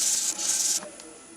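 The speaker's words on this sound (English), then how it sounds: "So I've sanded it with 120 grit and now I'm going to move on to 180." Hand sanding of a zebrano wood bowl with 180 grit sandpaper, likely on a lathe, gives a steady close hiss for most of the moment before it drops away abruptly to quiet.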